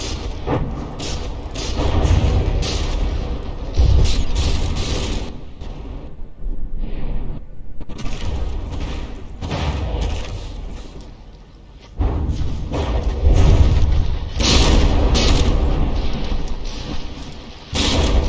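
Battleships in the naval combat game From the Depths trade shell fire, heavy booming blasts and rolling explosions that come in repeated surges and overlap into a continuous loud rumble with brief lulls.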